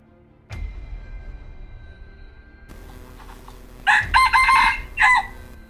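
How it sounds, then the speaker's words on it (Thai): A rooster crows several times in short bursts near the end from forest at dawn, loud and fairly close over a quiet background. "เสียงไก่ขันจ้ามาจากป่าข้างนอก"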